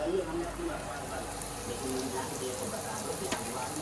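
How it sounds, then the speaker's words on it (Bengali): Chicken and spices, including Kashmiri chilli and coriander-cumin powder, sauté in hot oil for a Bengali-style desi chicken curry. A dense, steady sizzle fills the whole stretch, close and loud, with light stirring scrapes. "আর এটাকে ভালো করে কষিয়ে নেব। অলরেডি কিন্তু তেল ছাড়তে শুরু করে দিয়েছে।"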